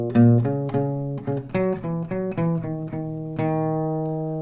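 Clean acoustic guitar plays the verse notes of a song as a string of distinct plucked notes and short phrases, close and clear, with no talking.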